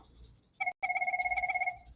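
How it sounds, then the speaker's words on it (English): A telephone rings with a rapid warbling electronic trill. A brief burst is cut off by a short silence, then the trill resumes in quick even pulses for about a second before stopping, moderately loud over a quiet room. "There's a phone call."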